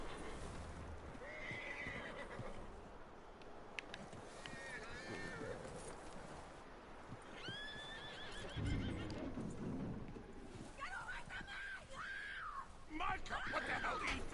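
A horse in a Western video game with a train-robbery gang story neighs and whinnies repeatedly, shrill calls rising over hoof clops and game ambience, with voices talking around it.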